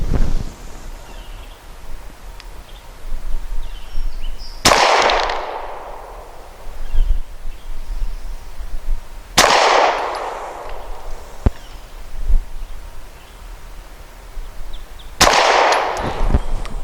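Hi Point C9 pistol firing Fiocchi 100 grain frangible rounds at a range, three sharp loud shots spaced several seconds apart, each with a short ringing decay, outdoors with faint background noise between.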